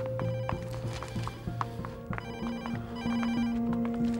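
A telephone rings in a drama film scene, its steady electronic tones repeating over a busy, murmuring room background for several seconds.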